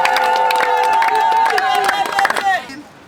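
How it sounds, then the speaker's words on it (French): Wedding guests clapping and cheering in a crowd, a lively mix of scattered claps, raised voices and high ululation-like calls that swell and then drop away quickly at the end. "Nous l'acclamons très fortement."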